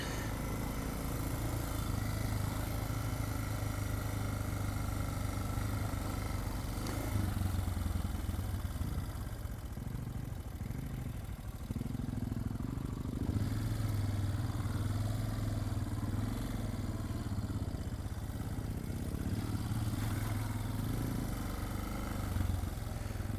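A Suzuki DR650 dual-sport motorcycle rides a rocky national forest trail, its single-cylinder engine droning continuously and close, with throttle swells and clattering from the rough ground.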